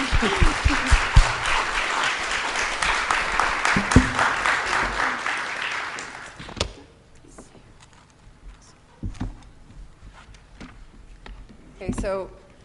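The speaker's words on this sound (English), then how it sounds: "Big round of applause to Mona and Yasmin and Madam Asr." Audience applause at a lecture on Alexandria and activism, a dense sustained clapping for about six seconds that tapers into scattered claps, room noise and a voice talking nearby.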